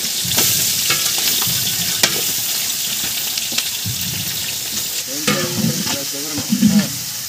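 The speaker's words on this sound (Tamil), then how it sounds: "நல்லா கிண்டு, வெங்காயம் நல்லா செவ்வறு அளவுக்கு நல்லா கிண்டு வளரும்." Onions fry for chicken biryani, a loud steady sizzle with repeated scraping and clattering strokes of a spoon stirring through the pan, close by and without talk.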